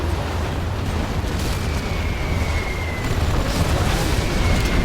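Artillery shells and a carpet bomb strike pounding down in C&C Zero Hour, a continuous loud rumbling wall of explosions and booms with no clear gaps, steady and dense throughout.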